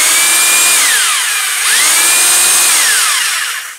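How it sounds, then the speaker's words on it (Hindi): Blue Hawk hammer drill whining in plain drill mode with no hammer action, a loud close high-pitched motor that runs, dips briefly in speed, then spins back up before winding down at the end. "इसको इस वाले फंक्शन पे कर देंगे जिधर खाली वर्मे का निशान है तो ये सादा ड्रिल मशीन बन गया"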